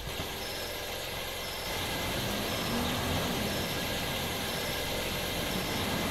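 Garbage truck rumbling along in the horror video game Trash Night, a steady low engine drone that thickens and grows slightly louder after the first couple of seconds, continuous and unbroken with no voices.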